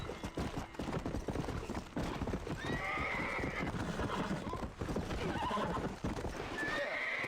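Horses in the Red Dead Redemption video game: clip-clopping hooves trot along while neighs and whinnies ring out several times over the steps, close and clear, with no talking.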